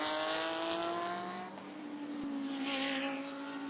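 At the Bathurst 12 Hour, the Grove Hire race car driven by Stephen Grove roars past, its loud engine note sweeping up and falling away with a rising whine, heard alone without commentary over it.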